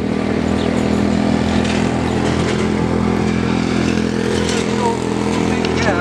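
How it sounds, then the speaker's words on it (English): Garden motor running loud and close in a yard during cleanup, a steady rough drone that sags as the engine bogs down, with voices talking faintly over it. "The motor is bogging down and dying."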